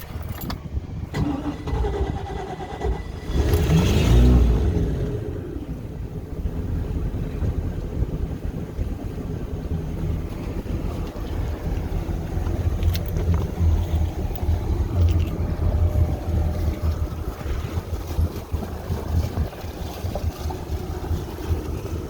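Chris Craft Scorpion 210 boat engine rising in a throaty surge near the start, then settling into a steady, close rumble with water and wind noise throughout.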